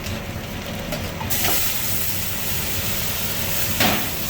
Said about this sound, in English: We're going to add our beef and veal stock.